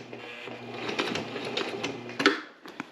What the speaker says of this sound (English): I'm hitting the reverse button, and we're gonna back up the stitching